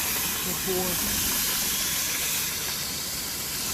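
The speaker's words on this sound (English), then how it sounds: "you can hear the juice is sizzling into that little water pan I got down in there" Juices from a spatchcocked turkey in an ugly drum smoker drip into a small water pan below and sizzle in a loud, steady, close hiss, with a voice briefly audible beneath it.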